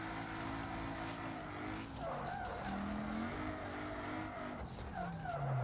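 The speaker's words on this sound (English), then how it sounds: "we have just enough power and plenty of speed for second gear drifting down this Japanese road" A car drifts in second gear down a Japanese road in BeamNG, engine droning steadily with rising and falling revs and sustained tire squeal throughout, loud and continuous.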